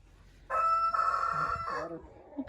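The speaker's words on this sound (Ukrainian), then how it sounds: "півні наші кричать" A rooster crows loudly nearby, one long strained call followed by a shorter trailing crow, with faint background noise.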